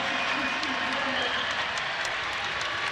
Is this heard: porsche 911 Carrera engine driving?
no